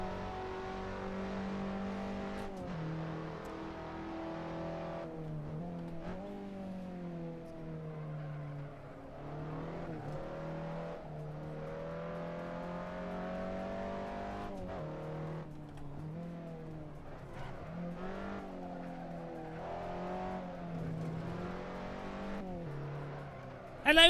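Simulated racing car engine in the Assetto Corsa sim, droning steadily through repeated rises and dips in revs with gear changes, continuous and fairly loud for the whole stretch.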